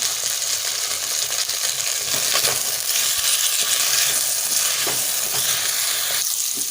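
Cauliflower pieces fry in hot oil with a little salt and turmeric, giving a close, continuous loud sizzle with brief stirring scrapes in the pan.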